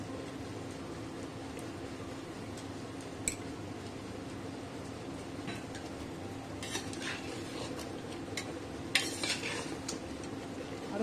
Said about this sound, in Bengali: খুব ভালো করে কষে নেবো যতক্ষণ না এর থেকে তেলটা বেরোচ্ছে